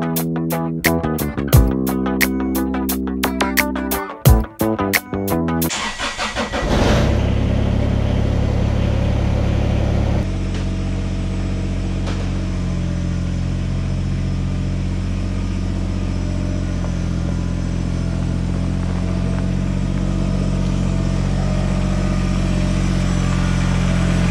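A few sharp mechanical knocks and clicks, then a tractor with a front-end loader runs close by, its engine settling into a loud, steady idle.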